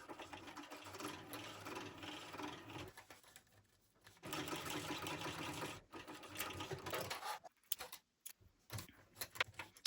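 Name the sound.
sewing machine back stitching on faux leather bag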